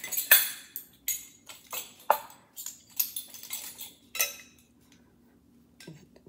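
A spoon clinks and scrapes against a bowl while rice flour and maida are mixed into a chicken batter, in a series of close, uneven bursts with short pauses and no talking.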